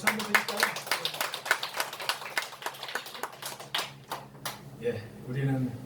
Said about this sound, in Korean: 주님께 영광의 박수 한번 드릴까요?